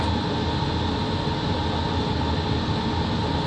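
A train rumbles steadily in a railway simulator game, a loud, unbroken roar of wheels and engine, alone with no voices.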